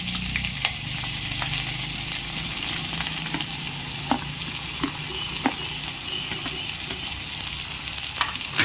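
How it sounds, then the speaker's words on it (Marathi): A large cut onion frying in hot oil with crackled mustard seeds, a steady close sizzle with occasional sharp pops and light stirring scrapes, no voices. "तेल तापलेलं आहे राई घातली राई तडकल्यावरती एक मोठा कट केलेला कांदा"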